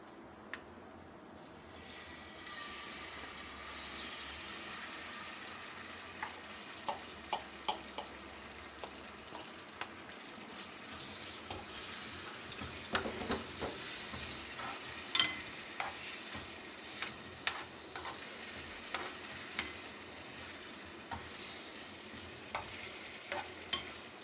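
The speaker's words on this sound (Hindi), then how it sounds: "अब हम इसके अंदर अपनी चिकन डालेंगे जो हमने मैरिनेट करके रखी थी।" Marinated chicken sizzles steadily in hot oil in a pan, close and constant, with repeated sharp scrapes and clinks of a utensil stirring it.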